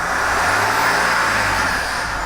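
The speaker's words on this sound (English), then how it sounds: "now rev it at 2000 RPM and hold it for about 5 seconds" Land Rover Discovery 4 engine held at about 2000 RPM in neutral during a ZF 8HP transmission oil change, a steady loud drone of the revving engine close by.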